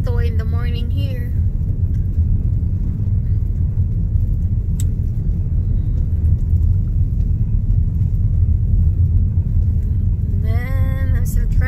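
A car driving along a road at sunrise in Arkansas, a continuous low rumble of tyres and engine with brief tonal sweeps at the start and end.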